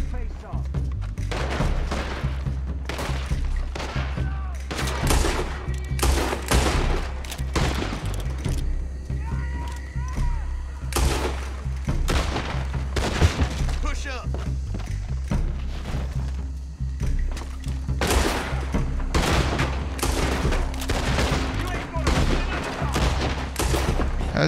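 Rapid volleys of gunfire in the video game Red Dead Redemption II ring out in dense, repeated bursts with heavy thuds throughout, loud and close, with occasional voices underneath.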